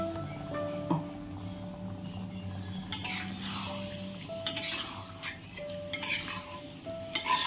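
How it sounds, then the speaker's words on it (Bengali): Hot water poured into chicken masala frying in a pan in a home kitchen, a sizzling burst with stirring and a few clinks of a spoon against the pot, close and steady with moderate loudness. "এবার আমরা জল দিয়ে দেবো, গরম জল।"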